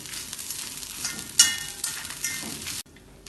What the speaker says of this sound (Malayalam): കുറച്ച് കറിവേപ്പിലയും കൂടെ ചേർത്ത് വീണ്ടും ഇളക്കി വറുത്തെടുക്കാം.